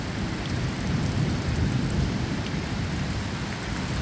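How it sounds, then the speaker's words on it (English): Thunder rumbles steadily beneath heavy rain as Hurricane Dorian hits an island, a loud, continuous wash of downpour with deep rolling booms throughout. "The heavens are a rumbling."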